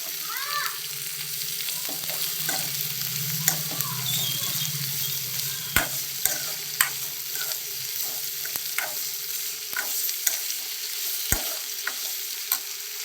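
Mutton frying in a pan with salt and ginger garlic paste, a continuous close sizzle broken by sharp scraping clicks of a stirring spoon, with no talk over it.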